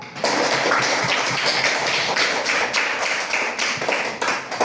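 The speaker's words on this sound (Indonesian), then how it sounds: "Tepuk tangan dulu." A classroom of students claps together in a loud, close burst of hand clapping that stays brisk and dense for several seconds before tapering off.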